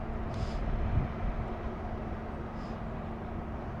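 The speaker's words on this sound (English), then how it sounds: "There's another high-speed train coming." A steady low rumble of a high-speed train rolls past at a distance, a constant droning roar with a faint high whine on top.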